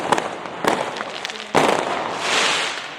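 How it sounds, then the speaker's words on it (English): Children set off fireworks on a street at Halloween: three sharp, loud bangs land about half a second to a second apart, each followed by crackling and hiss that swells into a sustained fizzing burst. "the children are literally setting off fireworks on the street."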